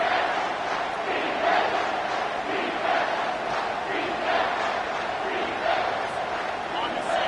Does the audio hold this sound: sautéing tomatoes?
no